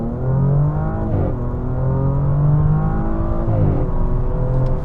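A 2023 Audi S6 launches and accelerates hard on a wet road, its engine note climbing steadily through a gear change at about one second and another near 3.7 seconds, loud and close from inside the car.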